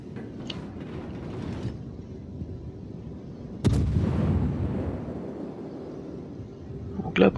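Naval guns fire a salvo in the World of Warships game with the Emile Bertin: a heavy booming blast hits midway and rumbles off, with fainter shots before and after over a low background hum.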